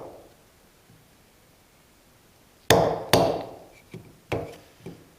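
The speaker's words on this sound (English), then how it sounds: "let's get the proper chisel then. See if we can actually get it to go into the wood here." A chisel is struck into wood while a wooden joiner's mallet is being made: five sharp, close knocks after a quiet start, the first two loudest, then lighter taps.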